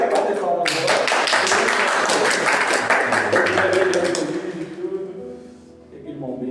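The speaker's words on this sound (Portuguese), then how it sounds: "Vai bater palmas agora." A church congregation claps loudly and densely after a baptism, steady for about five seconds before tapering off. Voices are heard briefly near the end.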